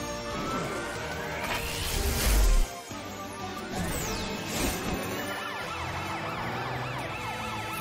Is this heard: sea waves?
no